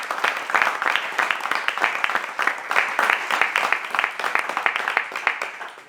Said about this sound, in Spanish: Un aplauso para las brigadas